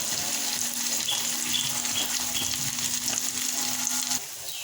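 Potatoes fry with chilli and turmeric powder in a pan, with a steady moderate sizzle and light stirring, a faint hum underneath that stops near the end.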